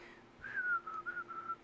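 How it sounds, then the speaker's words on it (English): A single person whistles a short, wavering tune up close for a second or so, a thin clear tone sliding and pulsing over a quiet background hum. "I'm trying to whistle here"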